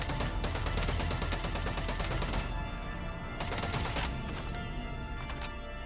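Dense, continuous automatic gunfire from EVE Vanguard fills the whole stretch, a loud rapid rattle with a few brief dips in intensity.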